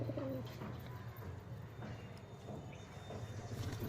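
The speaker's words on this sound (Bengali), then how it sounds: "এই যে বন্ধুরা, আমার একটা বাড়ির ডন পায়রা" A pigeon coos softly in a home pigeon loft, low repeated throaty notes at moderate distance over a faint background hum.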